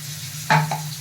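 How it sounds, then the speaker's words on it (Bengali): Water splashes into a wok on a home kitchen stove in two quick pours, a short loud gush followed by a smaller splash over a steady low hum. "কড়াইতে দিয়ে দিলাম জল।"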